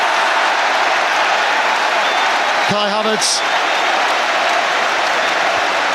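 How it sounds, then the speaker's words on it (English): A football crowd at Arsenal's Emirates Stadium applauds and cheers loudly and without a break, a dense wash of clapping and roaring with a commentator speaking briefly over it. "And the cheer tells its own story."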